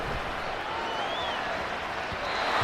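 A stadium crowd in the Madden 24 football game (Dolphins vs Panthers) applauds and cheers, a broad, steady roar that swells slightly toward the end.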